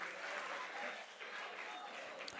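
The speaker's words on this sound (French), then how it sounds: "Est-ce qu'on peut applaudir pour Joel, s'il vous plaît, pendant qu'il regagne le backstage?" Audience applauding at a French televised talent show as a performer heads backstage, a steady dense wash of clapping sustained throughout at moderate level.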